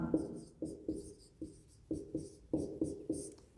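Chalk or a marker writes on a board in a quick, rhythmic run of about a dozen short taps and strokes, close and fairly quiet, with no talking over it.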